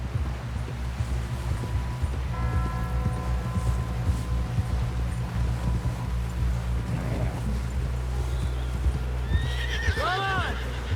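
Horse hooves clip-clopping at a steady galloping rhythm in Red Dead Redemption 2, with a horse neighing and whinnying loudly near the end, over continuous game ambience and low rumble.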